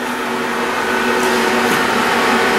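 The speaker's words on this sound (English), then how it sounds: "This is called a dehumidifier, and what it does is it sucks in all the air and it freezes all the moisture on a coil inside" A dehumidifier runs steadily during a water damage dry-out, giving a loud, constant fan-and-compressor drone with a faint tonal hum that stays unbroken throughout, with no voices.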